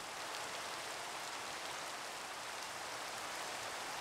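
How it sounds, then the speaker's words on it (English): Steady rain in the Minecraft video game, a constant soft hiss of falling drops with no variation, faint and continuous, with no voices. "I feel like it rains like every 10 seconds."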